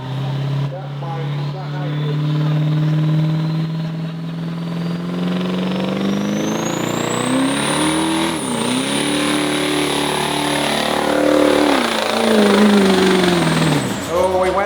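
A Duramax diesel pickup truck pulling a sled at a truck pull event, its engine roaring loud and close with rising and falling revs and a climbing high-pitched whine, under an announcer's voice over the PA.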